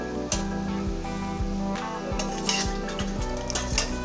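Bondas are stirred into coconut milk in a pot: a close, continuous wet swishing with a regular rhythm of soft spoon knocks against the vessel, steady and fairly quiet with no talk.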